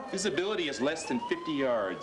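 An ambulance siren wails with rising and falling tones as it approaches through a snowy mountain area, sounding beneath a voice on a radio.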